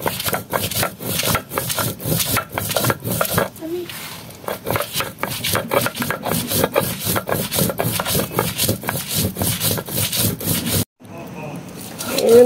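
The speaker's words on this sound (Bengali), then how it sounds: "এই মরিচটা আমি বেটে নিতেছি।" Dried red chillies are ground by hand on a flat grinding stone, giving repeated rhythmic rasping, rubbing strokes, close and steady, with a brief pause near the end.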